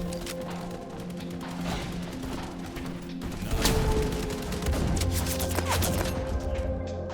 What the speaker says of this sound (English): In the current version of the game, there is no accuracy penalty for shooting while jumping.